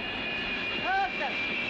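A jet airplane engine roars steadily, a constant loud whine with a high tone on top, heard close by in an Algerian film scene with no voices over it.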